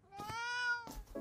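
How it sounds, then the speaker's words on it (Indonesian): A single cat meow, drawn out and tonal with clear harmonics and a slightly rising then falling pitch, close and alone, followed by a short soft rustle. "malam itu cowok ini denger suara meong."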